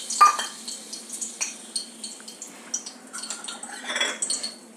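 Sundakkai being stirred into a pot of mor kuzhambu, with a spoon scraping and clinking against the pot in a steady run of short, close knocks over a faint sizzle.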